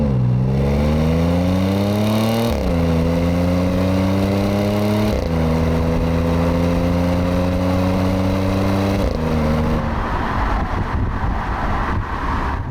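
A supercharged Audi S4 B8.5 in dynamic mode pulls hard through the gears, its engine note climbing in pitch, dropping at each of three quick upshifts and climbing again, loud and close with wind noise underneath.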